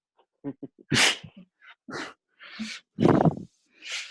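A pet dog heard at home over a video call, giving a series of short, close yaps and huffs spaced irregularly, with brief breathy snorts between them and no talk.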